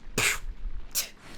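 Two sharp sneezes close to the listener, a short burst followed by a second one a moment later.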